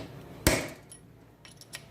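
A single sharp metallic smack rings out as a hammer strikes a punch to pop the front CV axle off a 2019 Can-Am Outlander ATV, close and loud, followed by quieter small clinks.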